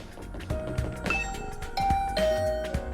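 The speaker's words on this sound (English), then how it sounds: "Ring the doorbell." A doorbell chimes in the video game Last Defense Academy, a bright two-tone ding-dong heard twice, fairly close and clear over a soft game backdrop with no talking.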